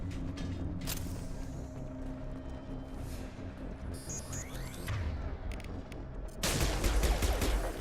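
Gunfire during a Mass Effect 2 video game battle on Insanity difficulty: sustained rattling bursts with mechanical clatter, swelling into a louder, denser volley near the end.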